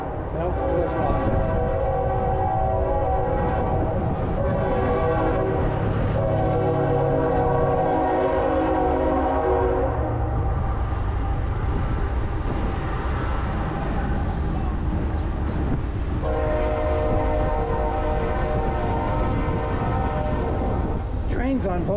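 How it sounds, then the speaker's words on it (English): Trains rolling past near downtown Johnson City, Tennessee, with a loud, sustained multi-tone train horn sounding in long blasts over the rumble of railcars. "Trains on both sides."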